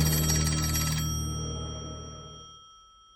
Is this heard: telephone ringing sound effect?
yes